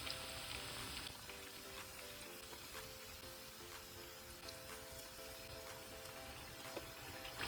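Bread-crumb coated cheesy bread bites fry in oil, giving a soft, steady sizzle with faint crackles and hiss, quiet and even throughout, with no talking.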